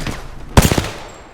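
Automatic gunfire from the video game Apex Legends: a sharp loud burst of several rapid shots in close succession, standing out from a low background hum.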